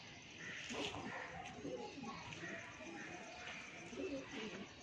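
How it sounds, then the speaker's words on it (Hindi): Pigeons coo softly in a loft of a fancy breeding pair, low throaty calls repeating faintly with some background voices. "कहाँ मिलते हैं भाई ऐसे कबूतर।"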